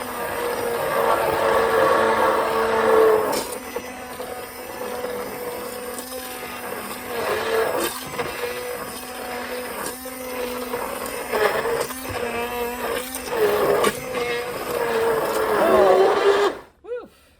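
A stick blender on turbo setting whirs through roasted salsa verde with seeds and skins in a pot, a loud motor drone that surges and dips with clunks, while a person talks over it.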